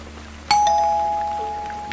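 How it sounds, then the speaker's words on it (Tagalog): A doorbell chimes once near the half-second mark, a bright ding with a long ringing decay and a faint second tone, in an otherwise quiet room with a low hum beneath. "Biglang tumunog ulit yung doorbell ng 2 beses."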